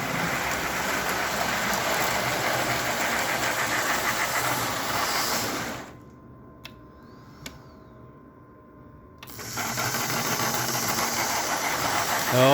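A reworked NGS RB engine, number 1, runs loud and steady with a broad, hissing roar, cuts out for about three seconds with only faint ticks, then starts again at full strength.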